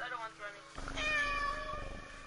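A cat meows in the horror video game Layers of Fear: Inheritance, a short tonal cry rising over a low rumbling game backdrop.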